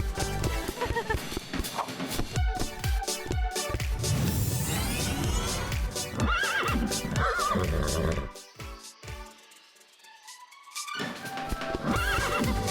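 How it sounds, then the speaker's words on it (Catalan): Zebra calls, a series of loud, harsh braying whinnies and snorts in bursts with short pauses, close and clear, with a quieter stretch near the end before the calling resumes. "Z. Zebra."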